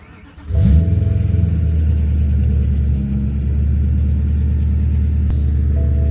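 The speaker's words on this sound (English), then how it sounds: "Good old cold start." A BMW E90 M3 with the S65 V8 and SMG gearbox, high mileage, cold-starts: a brief crank, then a loud steady high idle rumble that settles slightly but holds on, close by with no talk.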